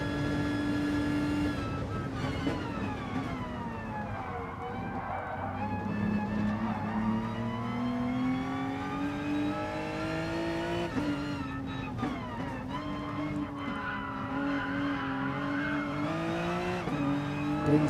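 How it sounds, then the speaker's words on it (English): A Mitsubishi race car on the Nurburgring GP circuit in a racing game squeals its tires through corners over a steady engine drone that rises and falls with the revs, with other cars audible nearby. "Listen to the tires absolutely complaining about that."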